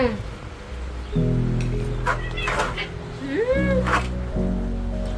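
A cat meows a few times in rising, plaintive calls, mixed with a person's voice nearby and a low steady hum underneath.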